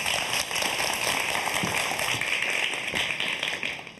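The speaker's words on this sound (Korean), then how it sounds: "자, 그럼 우리 교수님의 강연 큰 박수로 청해 듣도록 하겠습니다" A studio audience applauds to welcome a university automotive professor's lecture on electric cars, giving thick, continuous clapping that holds steady throughout.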